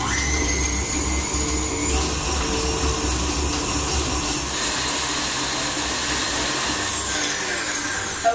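KitchenAid stand mixer beating butter at high speed for cupcake buttercream, a loud, steady motor whine with a constant mechanical whir that runs unbroken throughout, shifting pitch slightly now and then.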